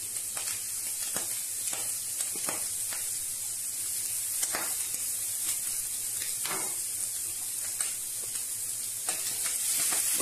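Squid, tomato and sofrito are stirred together in a hot pan, giving a continuous sizzle broken by repeated scraping and clinking strokes of a utensil, with no voices.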